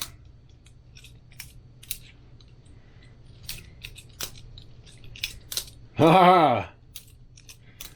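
Balisong butterfly knife being flipped, scattered sharp metallic clicks and clacks of the handles with a short voiced exclamation in the middle, close and quiet.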